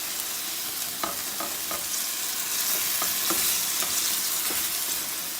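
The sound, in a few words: ground turkey sizzling in a pan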